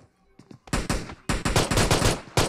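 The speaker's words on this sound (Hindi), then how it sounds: "ओ भाई M24 चला दिया इसने" Rifle shots ring out in PUBG Mobile, including an M24 sniper rifle, as a loud rapid series of sharp cracks that start after a quiet moment and repeat in quick bursts.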